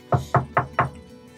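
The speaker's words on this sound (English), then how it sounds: "I knock back" Four sharp knocks on a door come close and evenly spaced, followed by quiet with no voices.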